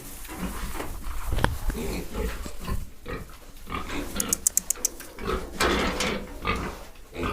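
Small piglets grunting and squealing close by, with short bursts of high squeals scattered through steady low grunts and some background voices.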